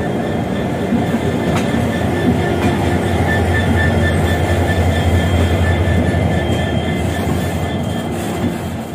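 An Express train from Kolkata to Jammu Tawi runs steadily, with a loud, continuous rumble of the wagons and faint squealing from the wheels. No voices are heard.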